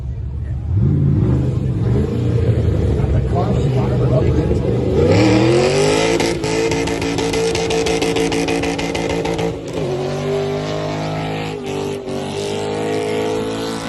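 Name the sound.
car engine fired up and revving at car show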